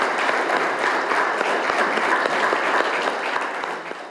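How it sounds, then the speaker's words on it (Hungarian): A crowd applauding at an outdoor civic ceremony for Saint Stephen's Day in Halásztelek, a loud, dense and steady clapping that holds for about four seconds before starting to fade. "szeretném, ha most egy tapssal köszöntenénk a város egészségügyi dolgozóit"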